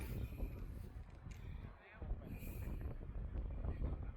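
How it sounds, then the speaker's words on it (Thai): Wind buffets the microphone outdoors on Easter Island, Chile, a remote island in the Pacific, with mountains ahead; a steady, loud rushing roar fills the clip, easing briefly midway before surging back. "บรรยากาศสดชื่นนะลมพัดเลย"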